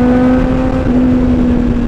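A Kawasaki Z900 inline-four motorcycle engine holds a loud, steady high-revving drone with a strong humming tone and wind noise, heard close on an expressway ride.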